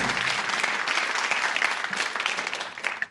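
Studio audience on a game show breaks into steady applause, dense clapping held at an even level for about three seconds before tapering slightly at the end.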